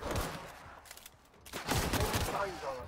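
A huge cannon fires in The Outer Worlds, bursts of booming, crackling blasts, loud and close, with a voice shouting between shots.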